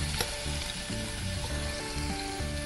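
Ginger garlic paste sautéing in hot oil with mustard seeds and cumin, a dense steady sizzle up close with a sharp tap near the start and faint background tones.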